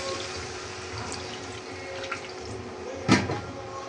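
Water pours into a pot of lentil dal cooked with radish, a steady faint rushing wash with a brief louder splash near the end, no voices.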